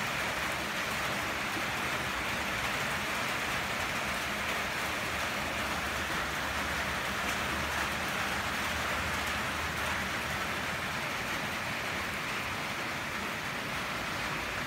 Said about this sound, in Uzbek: Juda kuchli bo'lmagan mayin yomg'ir yog'yapti.